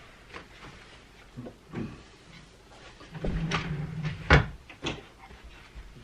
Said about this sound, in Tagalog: The new one can go in this bottom drawer. Bottom drawer. Put them in there.